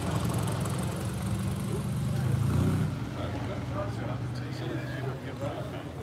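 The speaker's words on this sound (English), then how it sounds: "It's rather nice when vehicles just start plodding along in the background." Classic cars, including a TVR TC 2.2, Chimeras and a Griffith, rumble past at low speed at the Buntingford show, a steady engine drone that swells and fades beneath ongoing talk.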